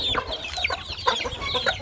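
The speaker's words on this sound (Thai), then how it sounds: "ไอ้นี่เป็นไก่ตาบอด" A blind chicken and others on a Thai poultry farm give short, bright clucks in quick succession over a constant low background hum, close and moderately loud.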